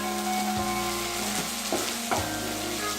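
Onion tomato curry stirred in a frying pan, a continuous sizzle with a few distinct scraping strokes of the spoon against the pan, close and steady.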